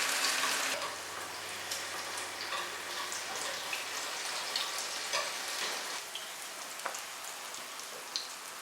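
Tofu pieces, flipped to their second side, fry in a pan of oil, giving a quiet, even crackling sizzle with sparse light pops and a brief low hum near the start.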